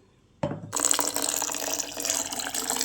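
A short clink, then water gushes out and pours steadily into dosa batter in a kitchen, a continuous close splashing flow lasting a couple of seconds.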